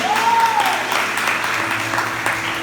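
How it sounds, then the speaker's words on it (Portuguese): A church congregation applauding during a Portuguese-language sermon: continuous crowd clapping with a short sung or whooping tone at the start and faint voices underneath. "Aplauda o nome do Senhor Jesus, irmão"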